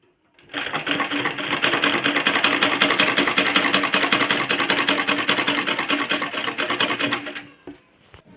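A sewing machine stitches the seam of a kurti in one steady, continuous whirring run of about seven seconds, close and loud, with no talking.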